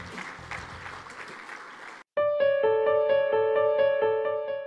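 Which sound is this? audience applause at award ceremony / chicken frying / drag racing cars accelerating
audience applause at award ceremony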